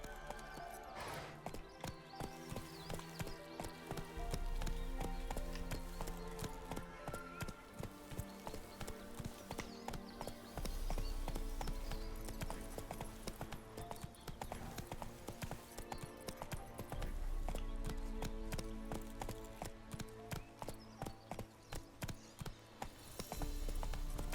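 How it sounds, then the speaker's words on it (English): A horse's hooves gallop in steady rhythmic clip-clop beats through The Witcher 3 video game, mixed with loud game music and ambience, with no talking. "Whoa there, Roach."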